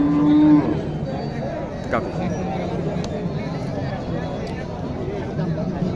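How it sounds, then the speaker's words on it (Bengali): A cow gives one loud, low moo right at the start, followed by a steady murmur of voices and livestock noise from a busy cattle market crowd. "আমি একটু গরুটা ঘুরিয়ে দেখাই"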